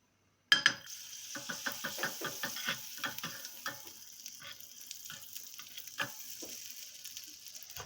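Butter sizzles and crackles steadily in a hot pan before pancakes are cooked, a dense frying hiss with quick popping bursts that gradually settles, close and without talk.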